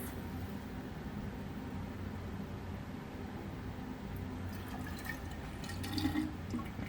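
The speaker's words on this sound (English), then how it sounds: "Pour the rest in here." Liquid from a bottle being poured into a large laboratory beaker during zooplankton sample prep, a steady wash of pouring noise with faint splashes and trickles near the end.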